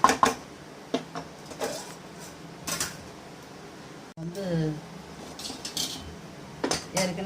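Metal utensil scraping and clinking against a pan while stirring pasta with basil on the stove, sharp irregular clatters with quiet gaps between them.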